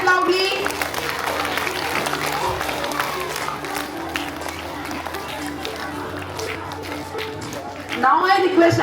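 An audience claps at a school Founders Day celebration, a sustained patter of many hands under an announcer speaking over a loudspeaker, swelling again near the end.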